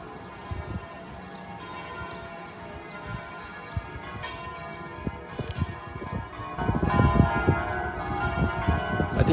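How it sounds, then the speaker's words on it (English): Church bells of the Holy Sepulchre in Jerusalem ringing at sunrise, heard at a distance under outdoor ambience, swelling louder and busier in the last few seconds. "Can you hear the bells?"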